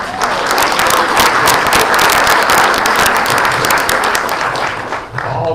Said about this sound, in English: All the parents are applauding.